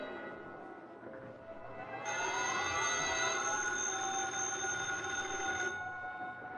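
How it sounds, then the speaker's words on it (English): A telephone in an apartment rings repeatedly in a radio drama, a steady bright electric bell tone swelling in the middle of the stretch and continuing alone, with no talk over it. "The phone in Britt Reed's apartment rang repeatedly"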